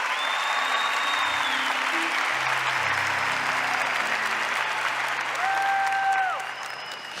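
An audience at a large Catholic youth gathering claps loudly and continuously, a full, sustained round of applause that drops off near the end, with sustained tones and whistle-like sounds over it.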